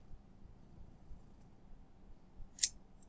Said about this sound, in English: I have scissors.